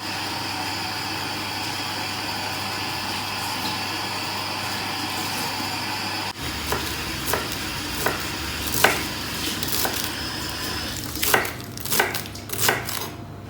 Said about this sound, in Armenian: Շապելը ամբողջությամբ եմ կտրատում, ոչ միայն թփերը, այլ նաև իր պոթերը ևս